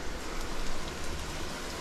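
Rain falling steadily outdoors near a home kitchen, a soft even hiss of drops on surfaces, moderately close and unbroken, with no talk.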